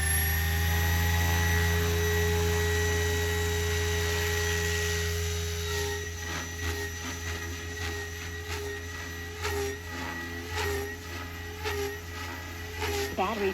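A large SAB Goblin Raw 700 RC helicopter motor spinning up, with a steady electric whine and hum that holds and then turns choppier as the rotor gains speed, close by, with no one talking.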